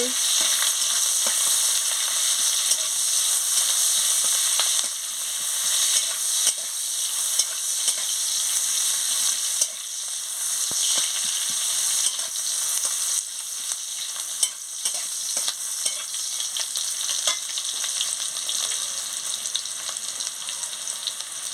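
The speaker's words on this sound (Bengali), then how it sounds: "এবার আমি পেঁয়াজ কুচিটা দিয়ে দিচ্ছি। দিয়ে ভালো করে ভেজে নিচ্ছি।" Chopped onions fry in a pan, a continuous bright sizzle with occasional stirring scrapes and taps, close and steady with no talking.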